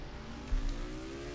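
A race truck in the NR2003 video game runs a qualifying lap at Darlington, a steady engine drone rising slowly in pitch with a brief low thump midway.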